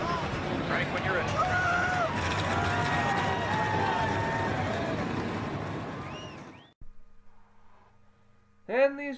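Engines of the field of stock cars in a NASCAR video game set at the Daytona 500 drone together in a steady, dense roar, then cut out abruptly, followed by a short quieter pause and a final burst of sound.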